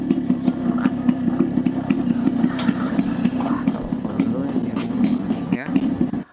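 A beat-up motorcycle's engine runs steadily at a low, even idle close by, under a woman's angry, heated talk throughout.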